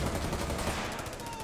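Rapid bursts of automatic gunfire in Rainbow Six Siege during a collegiate esports match, dense and continuous rattling shots filling the moment with no pause.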